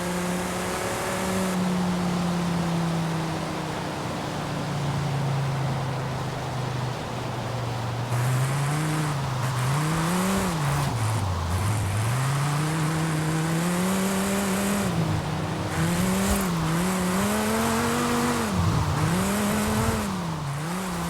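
A Dodge Viper in Forza Horizon 5 drifts along narrow, winding Mexican roads, its engine a loud, continuous drone whose revs repeatedly climb, dip and surge through the corners, with no voices over it.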